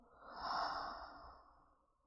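A soft open-mouth exhale during yoga breathing, one slow, breathy sigh that swells and then fades away over about two seconds, quiet and close.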